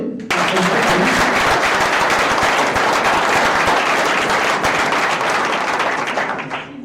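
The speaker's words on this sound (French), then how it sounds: "il y a eu un peu plus d'applaudissements" A pitch-event audience gives loud, dense applause for a competing project, a sustained wash of many hands clapping close by for several seconds before tapering off at the end.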